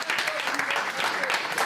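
A small film crew on set claps for an actor after a scene, with quick, brisk applause running the whole short stretch at a fairly close, even level and a voice or two mixed in.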